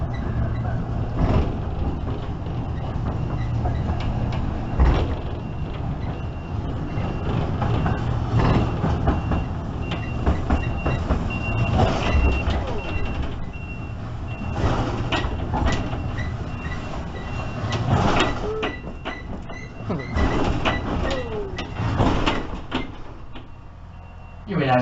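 Steady rumble and clatter of the Jacksonville Zoo and Gardens ride-on train rolling along its track, continuous and moderately loud, with wheel clicks and squeaks and people talking over it.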